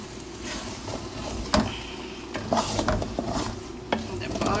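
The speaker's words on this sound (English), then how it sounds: "Jollof is cooking nicely. It's been about 10 minutes. So I'm stirring it up." Ghana jollof rice being stirred in a cooking pot, a spoon scraping and knocking against the bottom in irregular strokes over a steady low sizzle, close and moderately loud.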